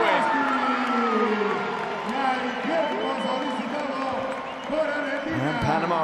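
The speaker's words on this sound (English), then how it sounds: "Gets the Panama crowd going." A large arena crowd cheers and whoops after a long three-pointer by Panama in a FIBA Basketball World Cup qualifier against Argentina, a sustained roar of voices with sneaker squeaks and a few ball bounces underneath.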